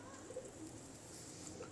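Soft, fluffy pigeons coo faintly in a pigeon keeper's loft, with a few low, brief calls heard over a quiet background hiss and no clear talking.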